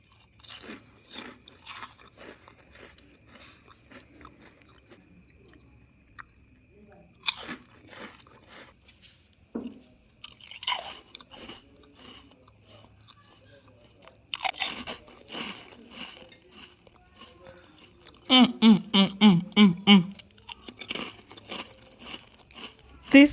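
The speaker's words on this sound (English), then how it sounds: "Super crunchy crackers." Someone bites and chews crunchy homemade prawn crackers made from fresh prawns, close-up dry crunches and crackles, sparse at first, then a rapid burst of chewing crunches near the end.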